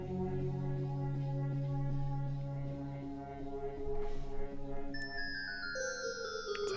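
A bell tree synth preset played from a KB1 keyboard controller through the AUM iPad app, sustained tonal notes layered over each other, then bright high shimmering bell tones entering near the end, close and steady.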